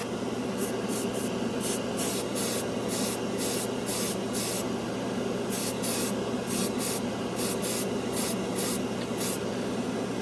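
An airbrush sprays cheap craft-store acrylic paint onto a scale model. It comes in a run of short hissing bursts with steady gaps between them, over a constant background hum.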